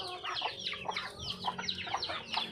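Young two-month-old Brahma chickens clucking in quick, irregular bursts of short calls close by, overlapping one another with no voices.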